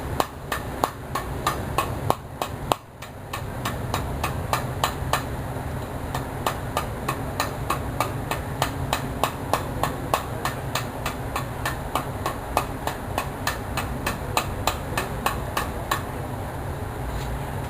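A blacksmith hammers hot metal on an anvil at a county fair: a long run of sharp, evenly spaced ringing strikes, roughly two per second, close and steady, with a brief pause early on and faint background noise.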